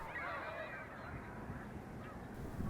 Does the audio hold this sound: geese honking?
yes